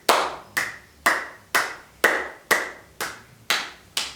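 Hands clapping in a steady rhythm during a yoga exercise, nine crisp claps about half a second apart, close and clear with no voices.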